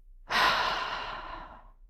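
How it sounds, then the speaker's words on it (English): One deep breath during a guided meditation: a brief intake followed by a long, breathy exhale that fades over about a second and a half, close and alone. "take a deep inhale in and a big exhale out"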